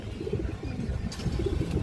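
A high flyer Giribaz pigeon gives soft, low throaty coos at close range against a murmuring background, with a brief rustle partway through.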